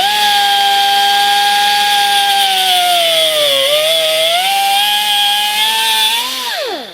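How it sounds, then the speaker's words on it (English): A power tool trims wheel studs on a Ford Bronco during a lift kit install, letting out a loud, steady high-pitched whine that sags and recovers under load before spinning down at the end. "Now we can start trimming the studs."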